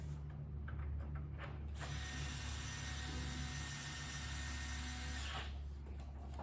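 A ratchet works a bolt during assembly of a house-style bed, giving a steady run of close mechanical clicking and whirring that holds for several seconds with no talk over it.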